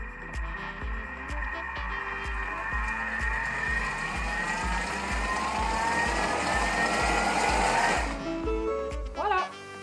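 A Thermomix food processor running at speed 8 with brioche dough whirs at high speed for several seconds, a steady mechanical drone that cuts off abruptly near the end, with a voice faintly over it.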